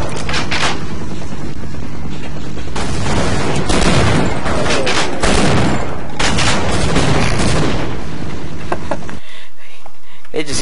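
Gunfire from the Half-Life video game crackles through most of the stretch, dense bursts of shots and blasts with a broad rumbling backdrop, easing to a quieter tail near the end.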